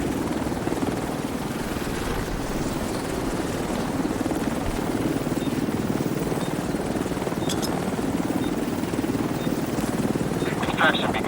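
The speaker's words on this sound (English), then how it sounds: "Helo is on site." An extraction helicopter in The Division 2 hovers overhead, its rotor drone a loud, steady, continuous thrum with faint chatter from a game radio beneath it.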